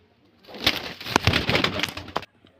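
A Kagji male pigeon coos close by in a burst of about two seconds, with sharp clicks mixed in, then stops abruptly into quiet.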